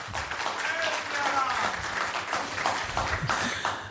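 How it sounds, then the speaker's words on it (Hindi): Loud audience applause welcoming Deputy Chief Minister Dinesh Sharma at a public forum on Uttar Pradesh's development: a continuous wash of clapping with voices talking over it. "उससे पहले जोरदार तालियों के साथ एक बार डिप्टी सीएम साहब का स्वागत।"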